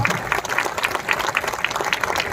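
Steady, dense applause from a large audience at a Chhattisgarh poetry event, loud and close, with many hands clapping continuously throughout.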